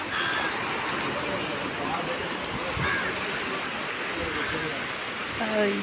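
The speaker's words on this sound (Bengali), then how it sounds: "দেখো শুধু ঢেউয়ের সাউন্ডটা" Sea waves wash in a continuous, even roar on a sandy Odisha shore where the Mahanadi river meets the sea, a dense rushing hiss that barely rises or falls throughout.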